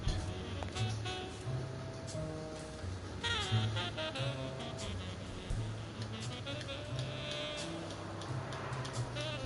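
Snoring goat in the Blacksad game, a nasal, bleating rumble that repeats in a steady pattern under constant background noise and game sound.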